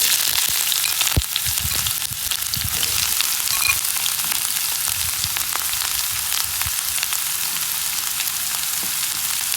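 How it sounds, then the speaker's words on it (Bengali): Finely chopped onion fries in mustard oil in a wok, making a loud, steady sizzle with occasional stirring scrapes and crackles and no voices. "তার জন্য আমি কড়াইতে দিয়ে দিচ্ছি প্রথমে কুচি করে রাখা পেঁয়াজ।"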